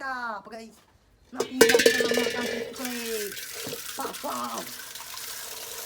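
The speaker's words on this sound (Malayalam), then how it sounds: "വെള്ളം നിറക്കുകയാണ് സുഹൃത്തുക്കളെ നമ്മൾ" Water runs from a tap to fill a vessel for a pet, a steady splashing stream that starts after a short pause and continues under a person talking nearby.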